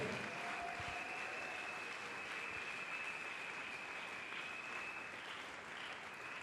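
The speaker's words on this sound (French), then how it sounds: "Acclamons encore très fort pour la gloire de Dieu." A church congregation applauds and cheers during a Sunday service, a dense, sustained wash of clapping with a few whistles riding above it, fairly distant and with no talking.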